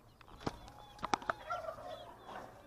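Broiler chickens in a dry pen clucking and calling with a few sharp, close squawks over a quiet background; no talk.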